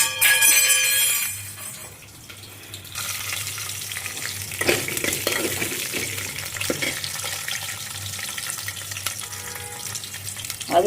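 Fenugreek seeds and garlic frying in hot oil for Andhra-style okra tamarind curry, a loud hissing sizzle that rises as the garlic goes in, then crackles steadily with occasional stirring scrapes.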